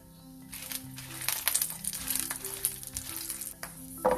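Red chilies frying in oil for Karnataka-style avarekalu sambar after cashews were sautéed, crackling and sizzling in sharp bursts with a spatula scraping and stirring through the pan.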